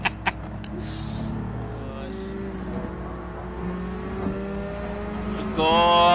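A race car in a driving video game makes a flyby, its engine note a sustained drone with shifting pitch, finishing in a louder burst, and brief sharp sounds near the start.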